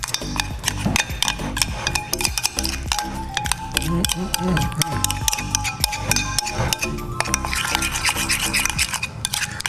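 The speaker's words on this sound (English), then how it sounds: "I'll get a spoon and I'll mix that up and we're gonna have a dipping sauce" A spoon mixes salt into a dipping sauce in a small bowl. Continuous scraping and rubbing is dotted with quick metallic clinks against the dish, close and steady, with voices faintly in the background.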